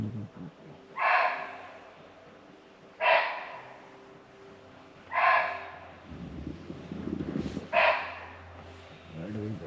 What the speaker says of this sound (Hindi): ये एक बार्किंग डियर की आवाज़ थी और वो लगातार बहुत तेज़ तेज़ बोल रहा है।